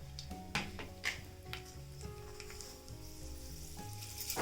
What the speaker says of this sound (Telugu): ఉద్దిబ్యాళ్ళు అలాగే శనగబ్యాళ్ళు, ఎండుమిరపకాయలు, జీలకర్ర ఆవాలు అయితే వేస్తాను